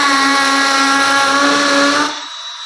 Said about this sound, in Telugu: And first of all hammer మూడ్లో అయితే పెట్టుకున్నాను చూడొచ్చు. అండ్ ఇప్పుడు హోల్ అయితే వేయడానికి ట్రై చేస్తాను.